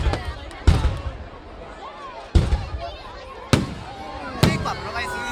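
Fireworks go off in four sharp, loud bangs spaced a second or so apart, with people talking and exclaiming in between.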